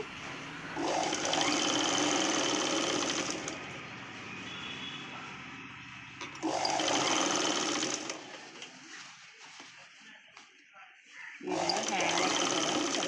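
Sewing machine stitching the sleeves onto a Punjabi dress top, running in three steady bursts with pauses between them, close by, as someone talks during the quieter stretches.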